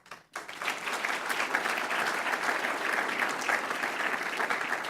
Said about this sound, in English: the applause is for you